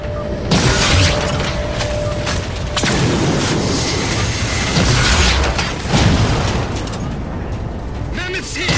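In Halo 4, an explosion strikes the Mammoth vehicle, a loud boom with crunching, mechanical debris and rumbling blasts that carries on through several seconds of battle noise.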